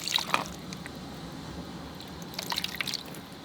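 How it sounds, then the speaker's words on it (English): Filtered tap water running from a faucet into a small container, a soft trickle with scattered drips and splashes, near and moderately quiet, with no speech. "And then I just take this and I just will fill this up with water."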